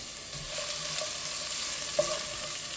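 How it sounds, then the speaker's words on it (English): Vegetables sautéing in a pot as a base for tomato-based Italian meatball soup, a continuous even sizzle with a couple of faint clicks, close and steady, no speech. "So I'm going to let this saute and start to soften these up."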